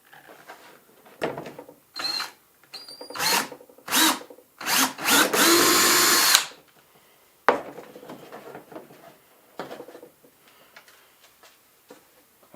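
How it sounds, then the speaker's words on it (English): A power drill bores a hole in a pulk sled, with several short bursts of whirring, one longer sustained run through the material, and scattered clicks and handling knocks between them, close and loud with no talking. "draw where my hole is going to go, and then we're going to drill this"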